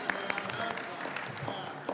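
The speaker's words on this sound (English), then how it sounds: "round of applause" An audience applauds in a hall, a dense, moderately distant patter of many hands with faint voices mixed in.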